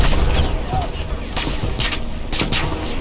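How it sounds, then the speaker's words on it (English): A bomb explosion in the Battlefield 1 video game: loud, dense battlefield noise with booming blasts and bursts of gunfire, a heavy rumble that stays steady through the whole stretch. "Oh my god, there's a bomb."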